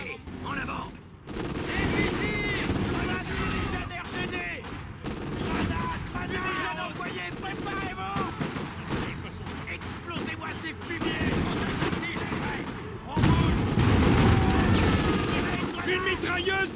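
Dense machine gun fire and artillery blasts from the Company of Heroes 2 battle at the Stalingrad railway station, sustained loud rattling bursts and booms throughout, with voices shouting over the combat.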